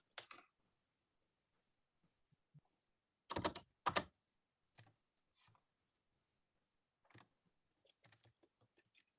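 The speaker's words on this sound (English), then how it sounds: "I'm just typing this." Keys on a computer keyboard tapped in sparse, quiet bursts, with a couple of louder clustered clicks in the middle and scattered light taps after, all close and alone.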